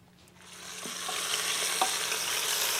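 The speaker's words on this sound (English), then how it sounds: "I'm gonna sear off the 2 other lamb shanks" Lamb shanks searing in a hot pan, a sizzle that swells as the meat goes in and then holds steady with a few small pops, close and moderately loud, no talking.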